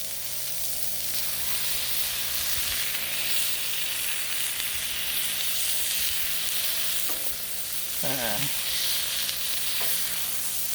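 Smash burgers sizzle steadily on a Blackstone griddle, a close, continuous frying hiss throughout with a brief scrape of a large spatula near the end.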